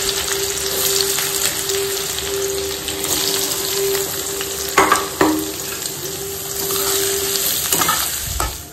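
Onions frying in a pan for fried rice, a steady loud sizzle and hiss with a few clinks and stirring knocks, close and alone without speech.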